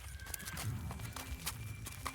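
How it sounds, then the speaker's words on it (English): Donkeys running past, a busy clatter of hooves and movement with a whinny-like call, fairly close and steady for a couple of seconds. "those are the donkeys running by."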